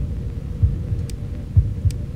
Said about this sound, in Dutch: En mijn hartslag gaat omhoog.